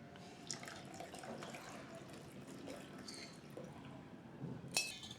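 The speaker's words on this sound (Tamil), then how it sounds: "இப்போ வெள்ளப்பாகும் வடிகட்டுறேன்" Jaggery syrup poured through a strainer in a home kitchen for coconut milk, giving a faint, steady trickle and light drips, with a brief clink of a vessel near the end.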